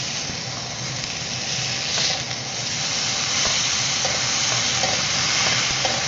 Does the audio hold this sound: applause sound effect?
no